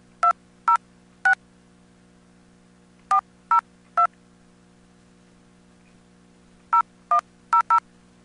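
Telephone keypad DTMF tones dialed into a conference line, three quick bursts of beeps separated by pauses, each tone short and clear over a low steady hum, with no talking.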